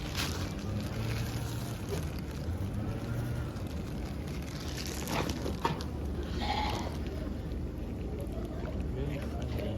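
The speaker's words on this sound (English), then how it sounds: "I didn't know the goats were this nice." Goats bleating among a group of livestock, with a few short, faint bleats over a steady background rumble while people talk nearby.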